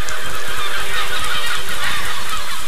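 Geese honking in the video game Besiege, a dense continuous chorus of loud calls that fills the whole stretch with no pauses.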